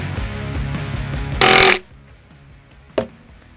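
A DeWalt impact driver runs close and loud, hammering rapidly as it drives screws, then it stops and one short sharp burst follows in a quieter room.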